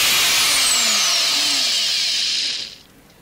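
A repaired angle grinder switches on and runs smoothly with a loud, steady high-pitched whine for about two and a half seconds, then cuts off and spins down.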